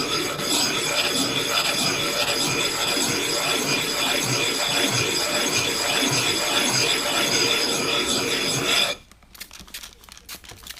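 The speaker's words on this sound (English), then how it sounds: "The grooves in this flattening stone help move the debris down into the grooves and off of the working surface" A Lansky Puck is rubbed back and forth across a wet, grooved flattening stone, a loud, continuous, gritty scraping up close that stops abruptly near the end, leaving faint handling noises.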